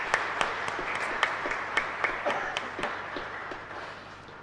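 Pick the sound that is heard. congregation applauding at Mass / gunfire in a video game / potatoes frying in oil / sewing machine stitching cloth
congregation applauding at Mass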